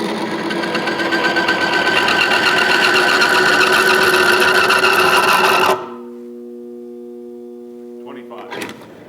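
A BG MOA bearing test machine runs with a loud, steady mechanical whine and grinding buzz for several seconds, then cuts off into a fading hum followed by a short clatter.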